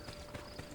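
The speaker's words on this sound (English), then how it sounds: "Hey, look, I can call this horse now." Horse hooves clip-clop in the Assassin's Creed video game, a faint, steady trotting rhythm under a busy game background.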